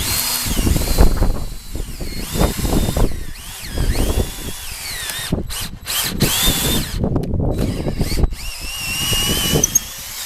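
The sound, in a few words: power drill drilling holes for garage door plates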